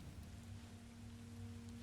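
Rain falling steadily in the martial-arts game Sifu at a dojo, a faint, even wash of drops with a low hum under it and no talk.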